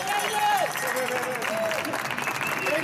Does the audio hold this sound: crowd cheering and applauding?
yes